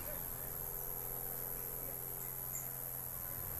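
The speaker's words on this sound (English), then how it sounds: "one of my favourite sounds, the grasshoppers" Grasshoppers chirping in a summer field beside golden wheat, a faint steady high-pitched buzzing drone that holds evenly throughout with no talk.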